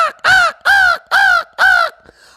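A voice imitates crows cawing, four loud, harsh, drawn-out caws in an even rhythm, close and alone.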